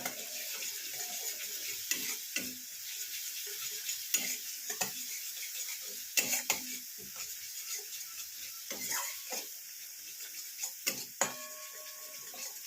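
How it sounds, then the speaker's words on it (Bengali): Egg korma masala with a pinch of sugar is stirred and sautéed in a pan. A soft, steady sizzle runs underneath irregular scraping clicks and taps from the spoon, fairly close and quiet, with no talking. "দিয়ে এটাকেও কষিয়ে নেবো"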